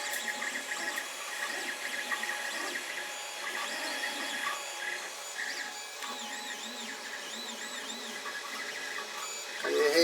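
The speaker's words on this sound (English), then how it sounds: "it's actually the spool. It took me a bit to find out, but it's the spool rubbing against the edge" A Creality Ender 5 Plus 3D printer runs with whirring stepper motor tones, while its filament spool rubs against an edge, adding faint repeated squeaks and scraping over a steady mechanical drone.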